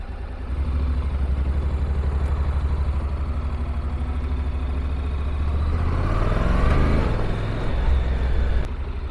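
A 2014 Honda CTX700 DCT ABS motorcycle rumbles with a low, steady engine drone close by, then its pitch climbs as the throttle is twisted and the bike pulls away, settling back to a smooth hum.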